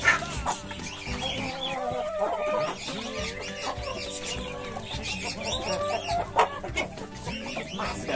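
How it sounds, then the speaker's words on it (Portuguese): Chickens, including large Índio Gigante crossbreed hens, cluck steadily in a busy farmyard chorus, several birds close by with overlapping calls and occasional sharper squawks. "Essa galinhona bonita, hein? Essa mestiça índia gigante, essas galinhas."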